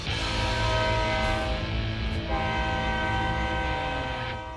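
A BNSF freight train rolls into the Alliance, Texas distribution hub near Fort Worth, its loud horn sounding in long sustained blasts over the steady rumble of the engine and cars.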